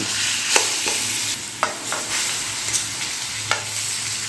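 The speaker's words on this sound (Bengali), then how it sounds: "তখন এর মধ্যে দিয়ে দিতে হবে আগে থেকে চটকে রাখা সেই জলপাই" Mashed olives frying in hot oil with panch phoron for a sweet-sour olive pickle, a steady close sizzle broken by several sharp scraping stirs of a spatula, with no talk.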